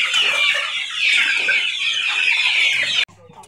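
Goliath and Brazilian breed chickens cluck continuously in a poultry flock at a farm in Mlomp, a busy, close chorus of clucks that stops abruptly near the end, leaving faint background noise.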